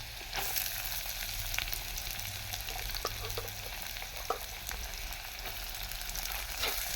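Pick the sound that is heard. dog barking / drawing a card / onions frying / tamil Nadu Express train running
onions frying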